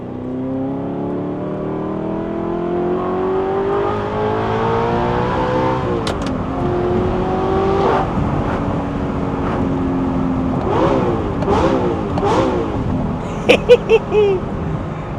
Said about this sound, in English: from the outside, This car is pretty freaking loud.